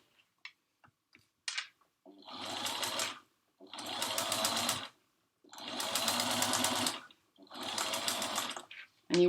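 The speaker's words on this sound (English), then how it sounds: "So now I'm going to start sewing." Sewing machine stitching a skirt seam with a centimetre seam allowance, running in four steady bursts of a couple of seconds each with short pauses between, close and clear, preceded by a few small clicks.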